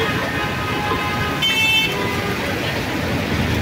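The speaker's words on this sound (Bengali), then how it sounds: "প্রচণ্ড জ্যাম রাস্তায়" Dense road traffic in a jam in Mirpur, Dhaka during heavy rain, a steady loud roar of engines and wet road noise with a brief car horn toot partway through, close by.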